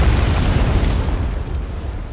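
Cannon blasts of canister shot in the American Civil War Mod at a Cold Harbor battle, a dense, rumbling boom that holds steady with no clear gaps, loud and close.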